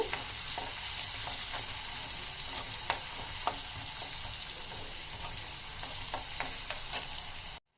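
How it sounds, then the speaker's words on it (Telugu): Ingredients for a fish egg fry sizzle steadily in a hot pan, a dense continuous crackle with occasional sharper pops and stirring, close and fairly loud throughout before cutting off abruptly at the end. "ఇవి లైట్ గోల్డెన్ బ్రౌన్ కలర్ వచ్చేదాకా వేపుకుందామండి."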